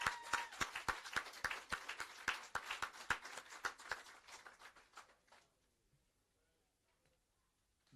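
An audience at a social housing handover ceremony claps in a round of applause, sharp individual claps close by that thin out and stop after about five seconds, leaving near silence.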